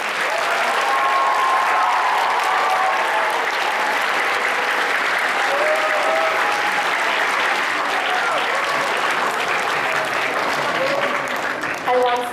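Sustained audience applause fills a school student council investiture ceremony, a dense, steady wash of many hands clapping for over twelve seconds, with a few voices and shouts faintly audible through it.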